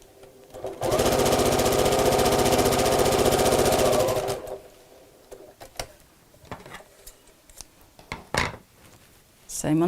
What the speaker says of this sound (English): I'm going to sew straight across the edge here, keeping those two sides folded back.